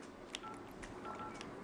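A mobile phone dials a call, giving a short string of faint, evenly spaced keypad tones over a low background hiss, with no voices.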